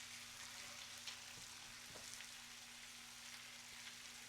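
Homemade smoked bacon frying in a pan: steady, soft sizzle and spatter close by with a faint electrical hum underneath and a few small ticks.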